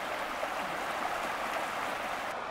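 Muddy, swollen water rushing along a small creek toward the sea, a steady, continuous broadband flow heard close up with no voices.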